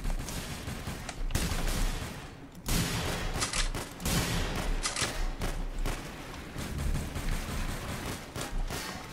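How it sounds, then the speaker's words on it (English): Gunfire from the Pistol of Doom in the video game The Hidden comes in loud, close bursts of repeated shots with thuds and only brief gaps between volleys. "Pistol of Doom!"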